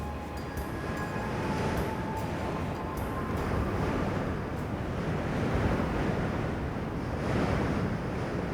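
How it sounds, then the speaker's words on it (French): Strong hot sirocco wind in southern Sicily roars steadily, a dense rushing noise with gusts buffeting the microphone, and a faint whistling tone at the start. "Le vent souffle fort encore cet après-midi."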